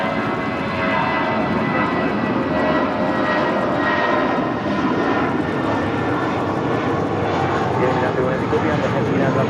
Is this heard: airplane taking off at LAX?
yes